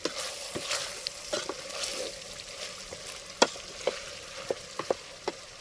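Meat sizzles and crackles in hot oil over an outdoor wood fire with a soft steady fry, broken by sharp pops and scraping stirs.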